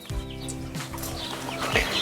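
Chickens on a small cattle farm give a few short clucks and calls over a close, busy background, with no clear talk.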